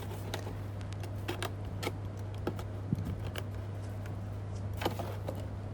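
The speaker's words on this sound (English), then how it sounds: "Continue to cut the acid bottle." A plastic acid bottle being cut with scissors or a blade, giving close, irregular snipping and crackling clicks over a constant low hum.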